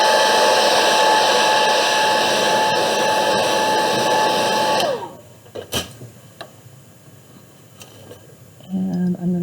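A hair dryer blows loud and steady at close range over watercolor paint on a holiday card, then switches off and winds down, leaving quiet handling sounds.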